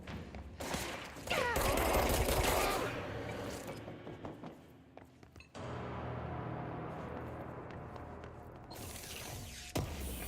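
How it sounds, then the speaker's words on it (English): Rapid bursts of gunfire in the video game Control, loud and dense at first, then continuing at a steadier level with scattered sharp shots and mechanical clatter. "There's somebody else shooting at me."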